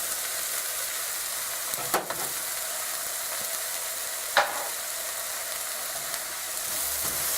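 Turmeric and chili powder sizzle in hot oil with a steady, bright frying hiss throughout, broken by a couple of stirring scrapes, with no talking.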